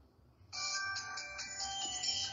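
A phone ringtone heard on a recording, a bright electronic melody that starts abruptly after a brief low murmur and then plays continuously, fairly faint and slightly muffled.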